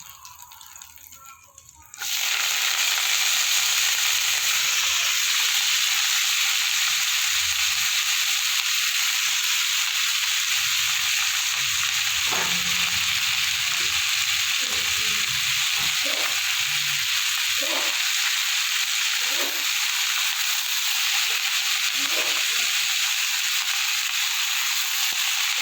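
Bathua greens go into a hot pan and a loud, constant sizzle of frying begins, with occasional soft scrapes and stirring knocks under the steady hiss.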